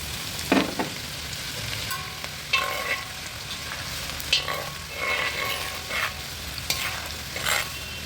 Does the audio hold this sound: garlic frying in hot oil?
yes